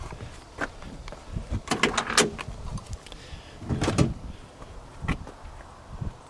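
A car door opening on a green 1958 Buick Century, giving several sharp latch clicks and clunks at close range, with brief bursts of handling noise between them and no talk.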